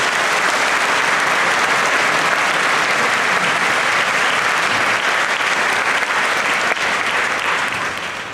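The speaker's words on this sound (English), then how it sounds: "I'd like to take just a minute to have a round of applause for all the work that they've done with the kids" Concert audience at a summer band performance gives the faculty a long, loud round of applause, a dense continuous roar of clapping hands that stays steady throughout and only begins to fade at the very end.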